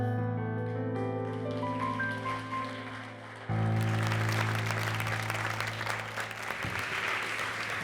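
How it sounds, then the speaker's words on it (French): Studio audience applause on a TV show bursts in suddenly halfway through, following sustained musical tones, and continues as a dense crackling wash to the end. "Merci de l'applaudir."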